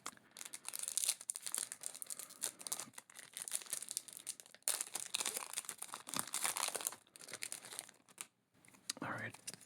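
Close, quiet crinkling and tearing of a Magic: The Gathering Bloomburrow booster pack wrapper, with repeated crackly bursts of plastic foil being pulled open, alongside soft whispered talk.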